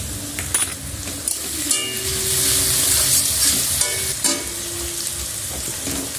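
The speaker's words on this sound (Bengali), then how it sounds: "রসুন কুচি দিয়ে ভেজে নেব" Onion and chopped garlic fry in a pan with a loud, steady sizzle, broken by metallic scrapes and clinks of stirring and a few sharp crackles.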